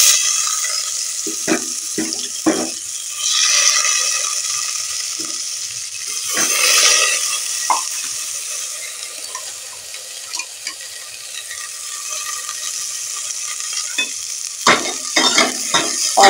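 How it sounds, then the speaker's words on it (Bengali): Rice being lightly fried and stirred in a pan for payesh, with steady sizzling and several scraping stirs, a brief louder stir in the middle and a cluster of sharp strokes near the end. "অল্প খানিকক্ষণ আমি নাড়াচাড়া করবো 2-4 বার। একটু হালকা চালটা ভেজে নিলে পায়েসের টেস্টটাও বেশ ভালো হবে।"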